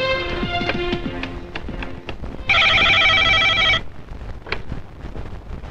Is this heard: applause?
no